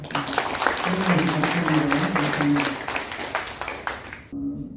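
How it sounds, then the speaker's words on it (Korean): A church congregation at a closing worship service of a summer retreat in Yeosu breaks into sustained, dense applause over a held organ or keyboard tone, fading out near the end. "하나님 앞에 우리 영광의 박수 올려드립시다"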